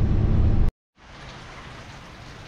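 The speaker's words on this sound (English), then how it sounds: "It's 4 p.m. pouring down rain still" Heavy afternoon rain pouring down outdoors during scrap-metal recycling work, a loud dense hiss that cuts out abruptly, leaves a brief silence, then returns as a softer steady wash.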